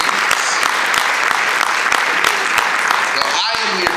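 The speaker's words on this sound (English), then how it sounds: "So give yourselves a round of applause, please." Loud, dense audience applause fills a hall at a talk, continuous clapping held at a steady level throughout, with no voices over it.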